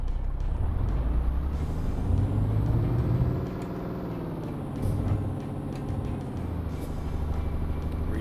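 A heavy truck in the video game Euro Truck Simulator 2, its engine droning and rumbling loudly and steadily as it pulls away in third gear, with the revs rising and settling over several seconds.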